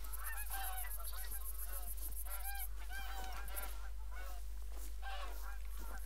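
A flock of geese in the hunting game The Hunter: Call of the Wild honks in dense, overlapping calls throughout, loud and continuous over a constant low background hum.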